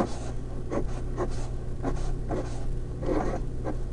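Pen strokes scratch across paper while money is drawn, coming as short, quick bursts of scribbling over a low, steady room hum, close and fairly quiet.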